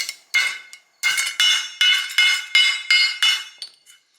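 Sharp metallic hammer blows land on a bent metal mower blade being straightened, about eight ringing strikes in an uneven rhythm, loud and close with no talk.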